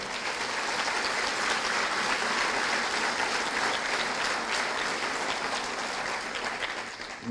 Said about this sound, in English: if we could give a round of applause, to our teachers